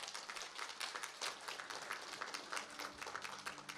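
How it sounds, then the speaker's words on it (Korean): An audience at the opening ceremony of an international symposium gives steady, fairly faint applause for a children's performance. "다시 한번 큰 박수 부탁드립니다."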